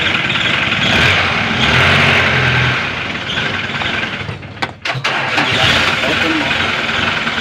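An engine is cranked with a newly rebuilt starter motor, giving a loud, continuous grinding churn that falters briefly midway and then resumes. Voices talk over it.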